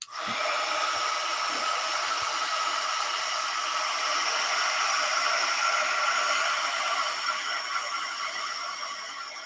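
A hair dryer blows steadily on a wet watercolor painting, a loud continuous airy whir that holds nearly unchanged from start to finish before easing slightly at the end.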